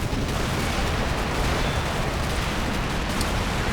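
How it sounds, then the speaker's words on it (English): Dense, continuous rolling gunfire and heavy booming cannon fire from a firefight in the woods in the war game Combat Mission: Black Sea, loud and unbroken with no talk. "Behind me you can hear a firefight in the woods"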